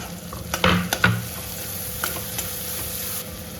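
Chopped onion and tomato for a Maharashtrian prawn masala fry in hot oil, a soft steady sizzle with a few clinks and scrapes of a spoon stirring the pan.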